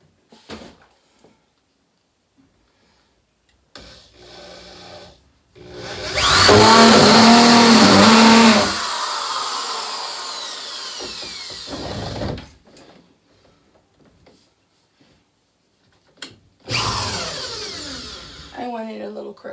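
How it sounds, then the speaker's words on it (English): A corded drill whirs loudly for a few seconds while pegboard is being put up, followed by shorter drill bursts and quieter handling sounds between them, with some talk. "Maybe these corded drills take time to warm up because it's working great now."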